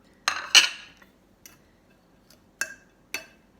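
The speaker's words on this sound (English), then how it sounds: "I'm going to give this just a quick stir" A spoon clinks and scrapes against a bowl in a few separate short strokes while shredded sharp cheddar is stirred into a biscuit mixture, with quiet pauses between strokes; no talking.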